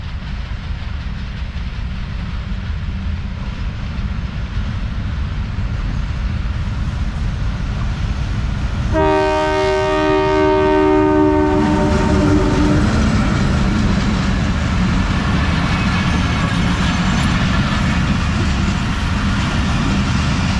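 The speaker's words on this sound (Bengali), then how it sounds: "সেটা কিন্তু বাংলাদেশের ট্রেন" A Bangladeshi train passes close to the border with a loud, continuous rumble and wheel roar, and a long, layered horn blast sounds midway through.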